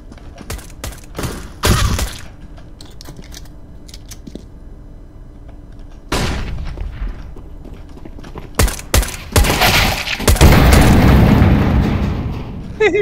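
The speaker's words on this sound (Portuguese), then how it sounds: "Foi ele! Ele se explodiu!" Loud explosions and bursts of gunfire in a round of the game CS:GO, with sharp blasts around two, six and nine seconds, a rumbling roar near the end and quieter gaps between.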